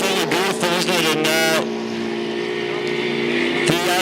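A 6-litre hydroplane racing boat runs out on a lake at a Gold Cup warm-up, its engine a loud, sustained droning whine with harmonic overtones, revving and shifting pitch in the first half before settling into a steady tone.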